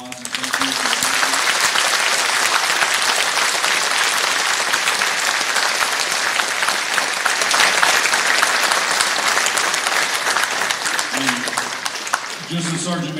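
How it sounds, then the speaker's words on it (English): A school gym crowd at a Veterans Day program gives veterans a long, loud round of sustained applause, dense clapping that holds steady for many seconds with a voice briefly heard at the start and end. "How about one more round of applause and thank you"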